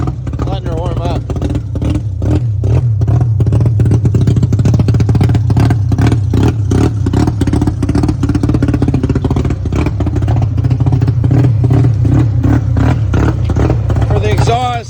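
A Mazda RX-7 rotary engine with a 12A header split into dual runners idles while warming up, loud and close with a rapid, lumpy pulsing exhaust beat that holds steady throughout.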